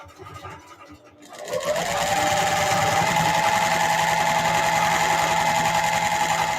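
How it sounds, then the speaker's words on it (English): An electric sewing machine stitches a quarter-inch seam with a guide, starting after a second of quiet and then running steadily and close with a fast, even whirring hum. "then you sew 1/4 inch seam"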